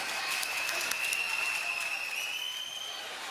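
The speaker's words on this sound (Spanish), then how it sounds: "Fuerte aplauso" Steady, dense applause from a crowd at a Carnival 2025 proclamation evening, sustained as an even wash of clapping with a faint high tone running through it, no speech over it.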